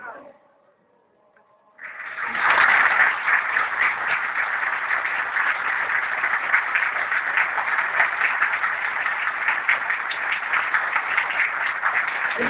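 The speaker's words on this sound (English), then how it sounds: "Ladies and gentlemen, let's give them another round of applause." Sustained applause from a large audience after a stage performance, starting abruptly after a brief quiet moment and continuing as a steady, dense wash of clapping to the end.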